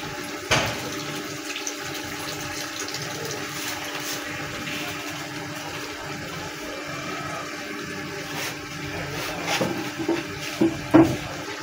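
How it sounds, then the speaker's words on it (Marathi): Water poured into a cooking pot for a crab curry, a continuous steady gush with a few louder splashes and knocks toward the end, no voices over it. "तुझं पाणी टाकतो."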